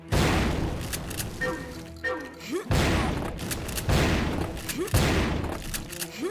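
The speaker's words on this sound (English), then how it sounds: "they put a convenient explosive barrel for you to shoot" An explosive barrel shot in the shooter game Turok 3 bursts in repeated heavy booms, three or four loud blasts spaced about a second apart amid gunfire, with someone talking faintly underneath.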